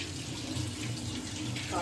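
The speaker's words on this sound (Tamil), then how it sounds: "அந்த பருப்பு வந்து ஒரு 7-8 வாட்டி நாங்கள் கழுவுவோம்" Tap water runs steadily while ration dal lentils are rinsed by hand in a kitchen, a continuous splashing wash with faint background voices underneath.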